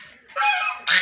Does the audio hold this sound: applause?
no